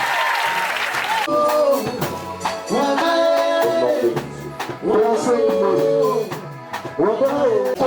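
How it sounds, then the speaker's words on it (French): Church congregation at a Wednesday worship service applauding and acclaiming the Lord, with bursts of clapping and cheering mixed under loud, sustained voices and shouts of praise. "Est-ce que quelqu'un peut acclamer le Seigneur?"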